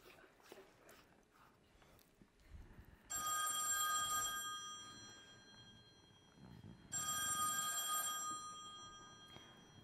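Telephone ringing on stage during a musical comedy performance, two long electronic ring bursts separated by a pause, loud and clear over faint room noise.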